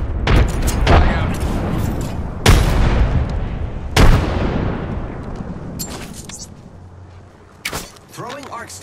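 Frag grenades detonating in the Apex Legends battle royale game, several loud heavy booms spaced a couple of seconds apart, each with a long rumbling decay, alongside gunfire and game sounds.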